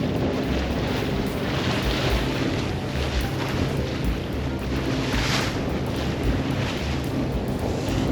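Sailboat motoring under engine power straight into a gusty 15 to 20 knot wind while heeled over, the engine drone buried under constant loud wind buffeting and rushing water with no talk.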